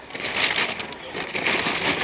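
Steady rain falls on Fall River Road as a dense, loud, even hiss that holds from start to finish with no voices.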